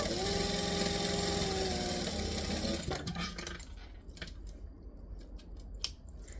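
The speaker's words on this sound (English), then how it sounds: "You can trim it off now if you want to" Scissors snip at fabric during a sewing project, a busy mechanical whirr in the first half, then sparse, separate cuts and clicks close by in a quiet room.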